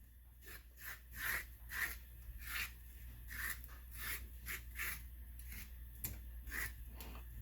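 Scraping the skin off a green banana: a series of short rasping strokes, close and distinct, repeating in an uneven rhythm against a faint background hum, with no talking.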